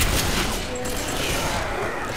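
Shotgun fire in the Left 4 Dead 2 video game, a dense continuous barrage of blasts and game noise filling the whole stretch at steady loudness.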